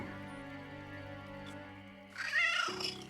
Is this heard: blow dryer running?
no